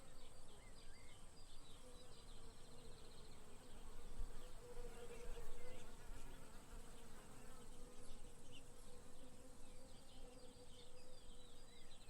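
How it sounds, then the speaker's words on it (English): Steady, dense buzzing of many bees among blossoms, continuous and fairly soft throughout, with a faint outdoor background. "bees move industriously among the blossoms, gathering nectar"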